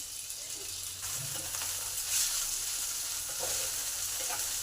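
Carrots and beans sizzle steadily in a hot pan with fried ginger while being stirred, a continuous close frying hiss with soft scraping, no voices.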